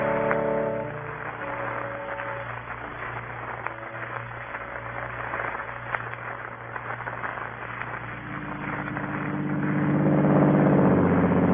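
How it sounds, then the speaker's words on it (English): A car engine starts up and drives off in a radio-drama sound effect, with a steady motor hum that swells louder toward the end as it pulls away, no voices. "I got up and went over to the car and drove off"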